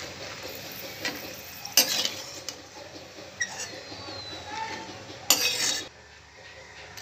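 Dried red chillies fry in a pan with a soft, continuous sizzle, and a utensil scrapes and clinks against the metal in irregular stirring strokes close by, with a few louder clanks.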